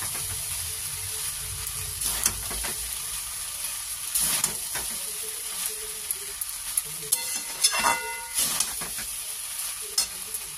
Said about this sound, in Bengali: রাইসটা দিয়ে এবার হালকা হালকা করে নাড়বো, দিয়ে হয়ে যাবে আমার মিক্সড ফ্রাইড রাইস